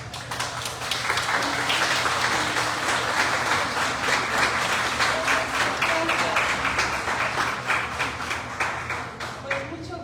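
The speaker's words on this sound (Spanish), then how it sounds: "Recibámosla con un fuerte aplauso." An audience gives sustained, fairly loud applause to welcome a speaker at a talk on vicarious trauma, many hands clapping steadily for about ten seconds.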